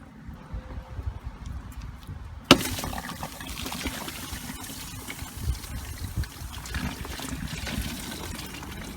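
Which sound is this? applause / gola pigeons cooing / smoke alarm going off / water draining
water draining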